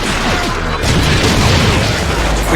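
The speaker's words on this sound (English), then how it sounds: "the airstrike on the way" A game airstrike explodes as a loud, dense, rumbling blast with a crashing burst spread across its whole short span.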